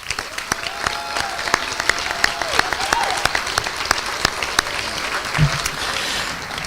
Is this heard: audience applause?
yes